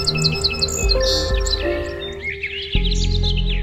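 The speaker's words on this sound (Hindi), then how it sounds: "हल्के अंधेरे में परिंदों के चहचहाने की आवाज" Birds chirp and call in overlapping bursts at dawn in a Pakistani village, a mix of high sharp tweets and fluttering trills, fairly close and clear over a low background hum.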